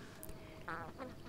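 Ducks on a farm give a couple of short nasal quacks over a soft, steady background hum, faint and somewhat distant, with no one talking.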